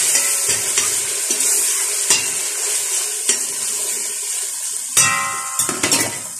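Masala is stirred and fried hard in a pot for a pumpkin, pea and meat curry. A loud, steady sizzle runs throughout, punctuated by sharp spoon strikes and scrapes on the metal, with a cluster of ringing clanks near the end.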